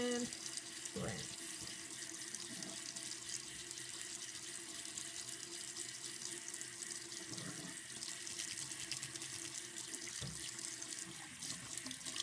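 Tap water runs steadily while makeup brushes are rinsed on a Sigma silicone cleaning mat at a sink, a continuous close splashing flow with faint brush swishes throughout.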